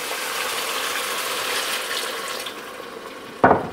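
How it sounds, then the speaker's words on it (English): Water poured into a pan of lentils and fried ham, a steady splashing hiss that runs for a few seconds, then a sharp clatter near the end. "Now I'm gonna go in with just a little bit of water."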